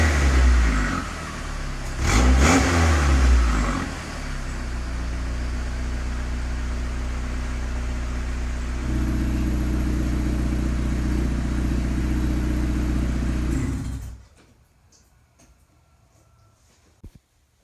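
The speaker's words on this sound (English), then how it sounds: "We're gonna hear the exhaust out back." A car exhaust with a freshly repaired turbo downpipe, heard from behind the car: a sharp rev early on, then a steady, loud idle that steps up slightly partway through and cuts off abruptly, leaving near silence.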